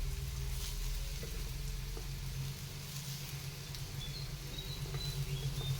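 Kothimbir vadi shallow-fry in a little oil, a steady, soft sizzle and patter of frying that runs throughout at low level, with no voices.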